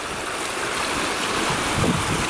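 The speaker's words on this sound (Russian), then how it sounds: "Под шелест волн." Gentle waves lap against the chalk-terraced bank of a great Russian river, a steady washing hiss mixed with wind buffeting the microphone, close and continuous with no voices.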